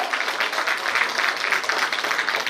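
Audience applause at a Kannada-language stage event, a steady dense wash of many hands clapping together, fairly loud and continuous throughout with no talk over it.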